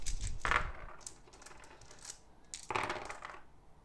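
Dice rolling during a War of the Ring board game, two quick clattering bursts of dice striking a hard surface, faint and close, with no talk.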